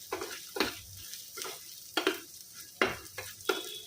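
Ginger pieces, asafoetida and dried red chillies sizzle in hot oil in a pan while a spoon stirs them in quick, rhythmic scraping strokes, close up with no voices.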